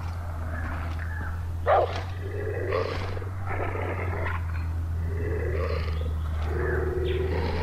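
A dog in the video game Far Cry 4, growling and huffing in several short bursts over a steady low hum, fairly close.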